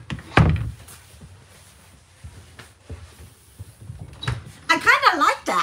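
An RV door swings shut at an RV show, landing as one loud close thunk near the start, with a softer knock later and a voice talking toward the end.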